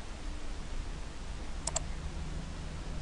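A computer mouse gives a quick double click, faint and close over a steady background hiss.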